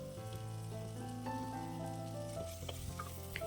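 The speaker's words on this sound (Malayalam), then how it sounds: "നല്ലവണ്ണം ഒന്ന് ഇളക്കിയെടുക്കുക." Tomatoes with a pinch of asafoetida sizzle and crackle quietly in a pan as they are stirred for a tomato moru curry, a steady soft frying hiss with small spoon clicks and no talking.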